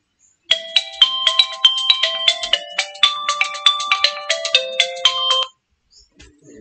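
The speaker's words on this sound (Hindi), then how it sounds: "कोई स्टूडेंट ही फोन कर रहा है।" A phone ringtone plays a bright, repeating melodic chime pattern loudly for about five seconds, then stops abruptly, leaving near silence.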